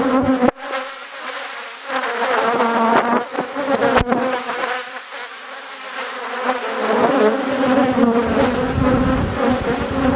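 Honey bees swarm loudly around an opened hive during a super inspection on a hot day in Bordeaux, a dense, continuous close-up buzz with individual bees droning past.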